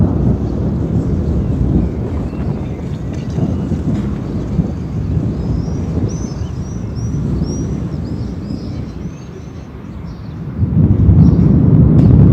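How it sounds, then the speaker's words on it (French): Wind picks up outdoors before a storm that may bring hail, roaring as a broad, steady rush against the microphone that swells louder near the end, with faint high twittering above. "vu le vent qui commence à se lever"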